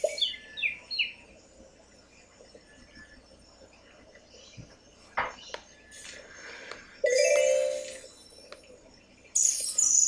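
Birds chirp in the Evopop video game, with short scattered tweets and light clinking game sounds spread across a quiet background.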